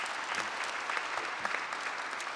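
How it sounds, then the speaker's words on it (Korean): Church congregation applauding the choir at a Sunday service, a broad, even wash of many hands clapping continuously from start to end. "우리 한번 찬양대 위해서 한번 박수 좀."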